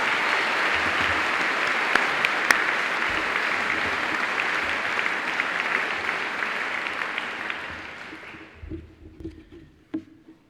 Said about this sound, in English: Let's give all of these recipients a round of applause.